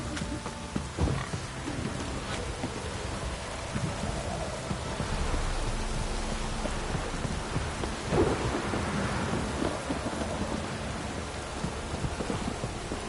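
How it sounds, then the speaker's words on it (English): Heavy rain pours steadily in a dense hiss, with rumbles of thunder rolling through and one stronger crack near the end. "This downpour's a bastard"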